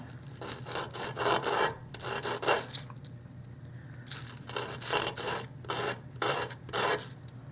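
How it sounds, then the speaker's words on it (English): Hand sanding with 80 grit sandpaper on a small miniature book piece: close, rhythmic rasping strokes in quick bursts, pausing briefly midway, with no talking. "Get my 80 grit sandpaper back."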